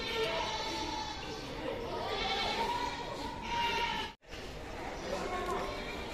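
Goats bleating repeatedly amid the steady hubbub of a crowded livestock market, with bleats overlapping one another and people talking nearby throughout.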